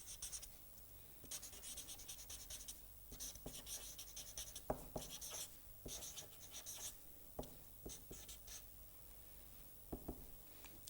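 Pen or chalk strokes from note-writing during a lecture, a quiet run of short scratchy bursts with pauses between words, close up and alone in a low-level room.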